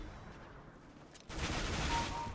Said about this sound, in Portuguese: Foi uma saraivada de tiro.